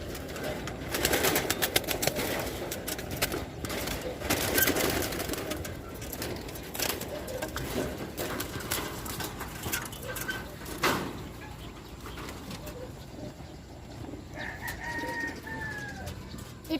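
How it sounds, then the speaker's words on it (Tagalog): Pigeons coo softly in a loft among rustling wing flaps and scattered clatter, the low calls recurring irregularly at moderate distance over a busy background. "Papakilala nila ko sa mga kalapate ko."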